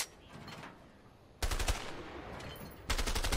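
Two loud, sharp gunshots ring out about a second and a half apart in the video game A Way Out as bottles are shot, each with a brief echoing tail over a quiet ambient background.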